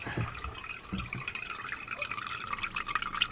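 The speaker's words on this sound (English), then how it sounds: "This is how I fill up water these days." Water drips and trickles into a container being filled at an overgrown spot in Hawaii, a steady close patter of small splashes with no talk.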